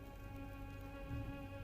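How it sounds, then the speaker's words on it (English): Steady rain falling in a video game city, a continuous dense patter with a low rumble swelling briefly near the end, with no voices. "I'm sure this rain will abate before too long."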